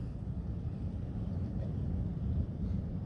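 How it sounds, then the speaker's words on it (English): Steady low wind rumbling outdoors in the woods, a constant close roar buffeting the microphone with no other sounds on top. "See how the wind's blowing it, and it gets better in the wind as well."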